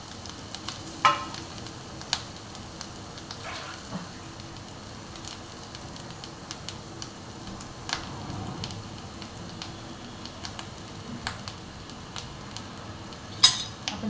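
Grated coconut filling for modak sautés in a pan, a soft low sizzle under repeated scraping and clinking of a spatula against the metal, close and moderately quiet.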